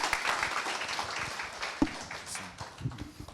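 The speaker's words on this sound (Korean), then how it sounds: "다들 박수로 함께 맞이해 주시면 감사하겠습니다." Moderate audience clapping at a PyTorch tech meetup welcomes the next presenter, loudest at the start, then thinning and tapering off over about three seconds with a few scattered claps.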